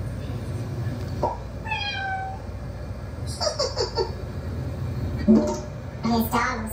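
A cat meows a few times, interspersed with a voice over a low background rumble.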